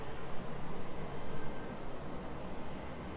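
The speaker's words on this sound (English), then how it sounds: "Reverse thrusters on the 767 there." Boeing 767 landing at East Midlands Airport with reverse thrust, a broad, steady roar of engine noise washing over the runway, heard from a distance with slight pulsing and no voices.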